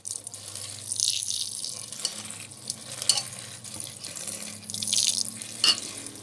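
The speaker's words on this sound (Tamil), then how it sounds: "எவ்வளோ தண்ணி தேவையோ அந்த அளவுக்கு தண்ணி வந்து விட்டுக்கலாம்." Water runs from a tap into a cooking pot in uneven splashing bursts, fairly close and moderately loud, with no talking.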